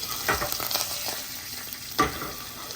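Ginger and green chili hitting hot oil for Gujarati dal, a soft sizzle with a few scraping stirs and a sharper clatter near the end, close by with no talking.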